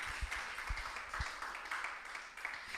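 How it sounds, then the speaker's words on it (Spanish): A church congregation applauding Christ, faint scattered clapping with a few sharper claps, heard at a distance under room noise, with no talking. "Un aplauso a Cristo por su bondad"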